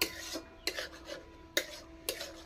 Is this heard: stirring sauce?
yes